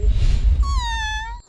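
A cat named Hurairah gives a single clear, drawn-out meow, close and fairly loud, over a low background rumble.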